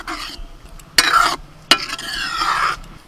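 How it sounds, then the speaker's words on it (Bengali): Chicken manchow soup ingredients are stirred in a sizzling pan, with scraping strokes broken by two sharp clanks of the spoon against the metal and a soft fry underneath. "এবার ভালো করে মিশিয়ে দেবো।"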